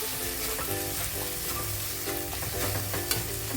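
Cumin powder and spices for chicken ghugni stirred in a frying pan: a dense, unbroken sizzle with rhythmic scraping strokes of the spoon, close and steady, with no talking.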